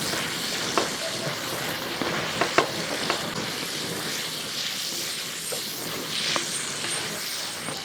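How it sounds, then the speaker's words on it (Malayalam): Sweet potato, potato and bean curry sizzles steadily in a pan while a spoon stirs it, with occasional light scraping clicks over the constant frying hiss. "ഇനി എല്ലാം കൂടെ കൂട്ടി ഒന്ന് ഇളക്കി കൊടുക്കുക."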